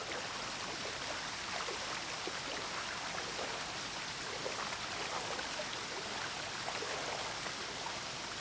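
A dangerous waterfall gives a steady, dense rush of falling water, a broad continuous hiss at low level with no pauses.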